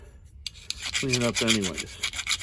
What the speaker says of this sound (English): that's why we got the little file, which is good to clean it up anyways